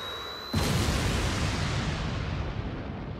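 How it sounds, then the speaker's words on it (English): A stun grenade goes off in an anime fight scene: a sudden loud blast after a brief quiet moment, followed by a sustained roaring rumble that slowly fades. "Stun grenade."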